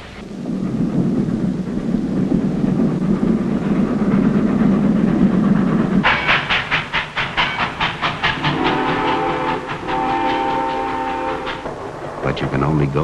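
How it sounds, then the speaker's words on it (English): Steam-era train on rail tracks: a heavy rumble builds, then a loud rhythmic clatter of wheels over rail joints, followed by a sustained train horn or whistle blast near the end. "The one sure way to get someplace is on a train."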